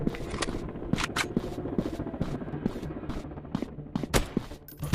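Rapid gunfire in the first-person shooter game Counter Terrorist, loud repeated shots in quick bursts with metallic clicks between them, dense and continuous at close range.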